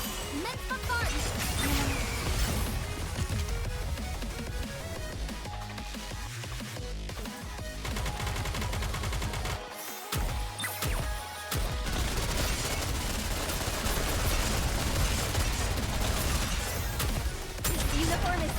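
Gunfire bombardment in the Nikke video game, a loud and nearly unbroken wall of rapid shots and explosions, mixed with game music and effects, with one brief drop near the middle.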